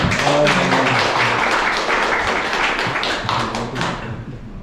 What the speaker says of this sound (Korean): 우리 권대웅 회장님 박수로 환영해 주시면.